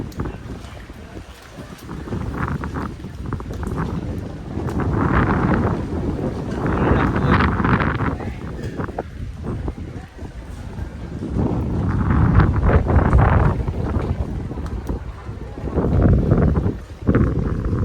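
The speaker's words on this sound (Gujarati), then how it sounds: "ફૂલ ઠંડો પવન છે." Cold wind gusting across Pavagadh hill on a misty morning, a steady loud roar buffeting the microphone, rising and falling in waves with no one speaking.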